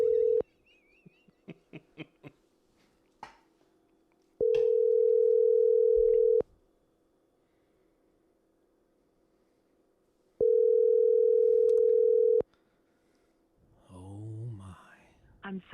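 Telephone ringback tone heard while dialing a guest for an interview: a steady electronic tone sounds in long two-second bursts separated by silences, with a few faint clicks and quiet murmuring early on and a voice at the end.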